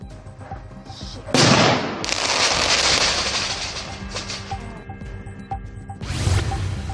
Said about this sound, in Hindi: मिसाइल से प्रहार